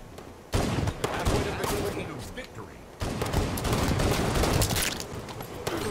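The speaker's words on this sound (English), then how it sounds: "I put 6 shots in him." Bursts of rapid gunfire in the video game Halo, dense crackling volleys that start abruptly, pause, then resume, loud and close with a voice talking over them.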